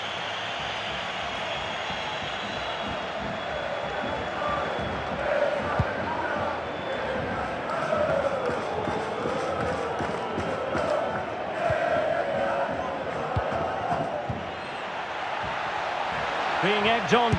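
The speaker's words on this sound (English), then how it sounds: "Being egged on by the crowd" A stadium crowd in the FIFA 23 video game, at a Real Mallorca v Barcelona match, roars and cheers as a steady dense wall of noise that swells slightly in the middle and near the end.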